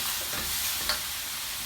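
Vegetables sizzle and fry in a pan with a steady hissing crackle, briefly punctuated by a single stir or scrape, close and continuous with no voices.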